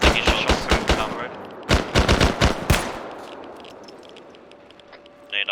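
Rapid bursts of automatic gunfire in the military shooter game Arma 3, loud sharp shots in quick clusters, then fading into a quiet tail, with voices faint in the background.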